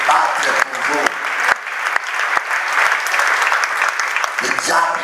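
Loud congregation applause during a church sermon, a thick sustained roar of clapping that swells briefly, with a preacher's voice cutting in at the start and near the end.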